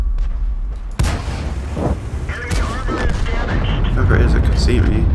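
Tank cannon fire in a World War II tank video game: a sharp heavy boom followed by rumbling blasts and battle noise, loud and close, with someone talking over the action.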